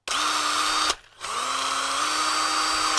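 A cordless 522 CT drill with a 775 motor and 13 mm chuck runs loud and close, a steady high whine that cuts out briefly, then spins back up and holds at speed to the end.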